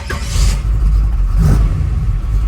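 A 1968 Chevrolet Camaro hot rod with a 383 V8 and automatic transmission rumbles loudly up close, its deep exhaust note swelling through two revving surges.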